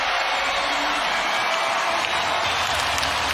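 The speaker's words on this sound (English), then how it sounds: "this crowd is alive here at the Chase Center" Big basketball arena crowd at the Chase Center roaring and cheering after a made jumper, a steady dense wall of crowd noise with scattered shouts and whoops throughout.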